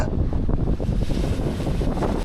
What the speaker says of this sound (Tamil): இது மண்டைக்காடு கோயில் பக்கத்தில் இருக்கக்கூடிய பீச்